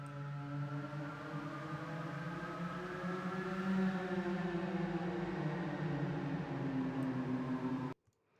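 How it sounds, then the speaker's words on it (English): An electronically generated synthetic tone sonifies Klamath River temperature data, a steady droning hum with layered harmonics that slowly bend and shift in pitch, sustained throughout and cutting off abruptly near the end. "I've mapped temperature to an electronically generated synthetic sound that increases in frequency as the temperature"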